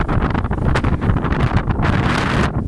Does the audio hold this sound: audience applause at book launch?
no